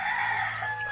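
A rooster crows close by, one loud sustained cock-a-doodle-doo that carries through the whole moment with no voices over it.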